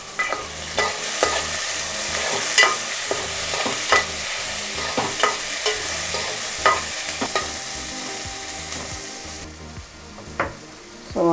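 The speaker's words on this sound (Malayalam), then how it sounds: "ഒരു 10 അലരി വെളുത്തുള്ളി, ഒരു കഷ്ണം ഇഞ്ചി, കുറച്ച് വേപ്പില, ഒരു 6 പച്ചമുളക്, ഇതെല്ലാം കൂടി എണ്ണയ്ക്കകത്ത് കിടന്ന് വാടിച്ചത്" Garlic, ginger, curry leaves and green chilies fry in hot oil in a pan, a steady bright sizzle broken by regular scraping stirs of a spoon, close and continuous without speech.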